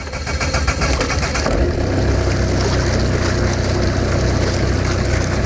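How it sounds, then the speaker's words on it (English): A cold 200hp OXE diesel outboard engine cranks and catches, then settles into a loud, lumpy, rattling idle that holds steady nearby. "The engine is currently cold, so this is going to be a cold startup"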